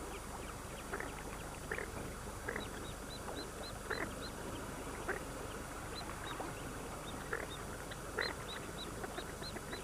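Goldeneye ducks with their ducklings on a lake, heard as scattered soft calls and peeps over steady outdoor ambience, fairly distant and low in level.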